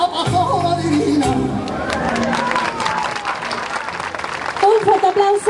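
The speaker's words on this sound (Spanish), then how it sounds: "Un fuerte aplauso para estas tres parejas que nos han bailado estas magníficas sevillanas." Audience at a Can Parellada festival performance applauds three couples after their sevillanas dance, clapping and cheering swelling over the tail of the music, with crowd chatter and a voice on a sound system mixed in.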